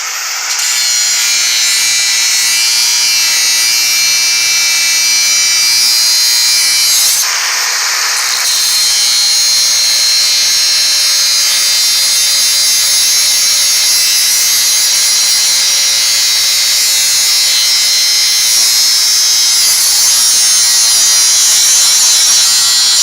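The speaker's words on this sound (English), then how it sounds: "we only have this unibit, so what we're going to do is cut it in half" A drill with a unibit step bit cuts a hole near a Jeep axle, a loud continuous high-pitched grinding whine held for over twenty seconds with one brief dip in pitch midway.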